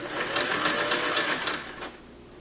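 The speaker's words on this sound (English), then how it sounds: "And I sew right along the edge of the bias tape." A sewing machine runs steadily as it stitches bias tape along the edge of a pant leg for a flat-felled inseam. The fast, even needle rhythm is close and clear, then slows and stops near the end, with no talking.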